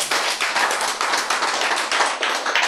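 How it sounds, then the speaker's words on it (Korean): Applause in a Korean church sermon on faith and longevity: a small audience claps in a brisk, fairly regular rhythm, close and loud, with no talk over it. "박수."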